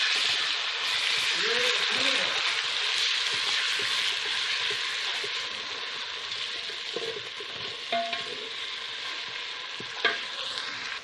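Golden fried onion sizzles steadily in a pan as ginger and garlic are added and stirred in, with occasional scraping and tapping of the spoon. A voice speaks briefly near the start.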